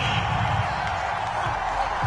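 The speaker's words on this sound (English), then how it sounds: "this crowd does not like that call" A stadium crowd in a Madden football game reacts to a roughing penalty flag late in the first quarter, a loud, steady wash of disapproving crowd noise that never lets up.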